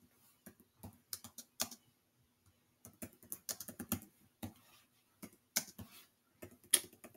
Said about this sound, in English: Can't type this evening.